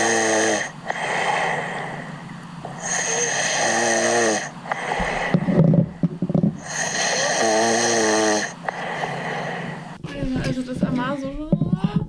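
A person snores in a tent, close and loud, with long rasping inhales and wheezy, snorting exhales repeating in a slow rhythm, ending in a strained, whistling breath.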